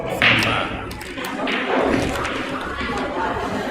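A pool cue strikes and the ball comes off the end rail before the 4-ball drops during a ranking tournament match, with sharp knocks and thuds heard close under a commentator's voice.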